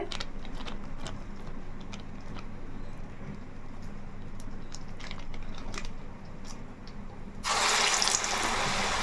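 Tap water splashing while a milk packet is rinsed clean, a low running-water hiss with small clicks and taps, swelling into a louder, brighter gush near the end.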